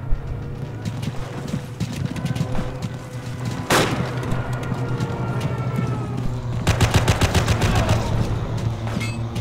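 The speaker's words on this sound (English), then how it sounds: "He is camping the spawn with a machine gun." Machine gun fire in the World War II game Forgotten Hope 2 during the Invasion of Crete, with sustained rapid bursts, a loud crack near the middle and a fast rattling volley toward the end over continuous battle noise.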